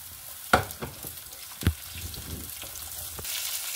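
Garlic and onion sautéing in a pan for pancit canton, a soft steady sizzle broken by a few sharp clacks of a utensil against the pan.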